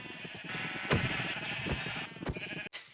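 Sheep bleating in the video game Minecraft, several repeated bleats from a large flock, fairly loud and close, with no talking.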